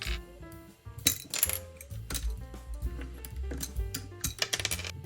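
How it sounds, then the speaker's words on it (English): Plastic keycaps being pulled off a mechanical keyboard and dropped onto a pile, giving a close series of light clicks, clinks and rattles at irregular intervals with no talking. "now to pull off the rest of the keycaps and put them in our use pile."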